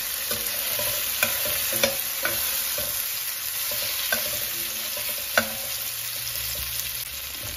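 Onions for sambar sautéing in a pan, a steady close sizzle broken by occasional sharp clicks and scrapes of a stirring spoon.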